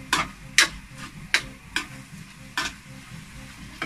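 Chicken fries in a pan for pancit bihon, with repeated sharp scrapes of stirring about every half second to second over a steady, close sizzle; no talking.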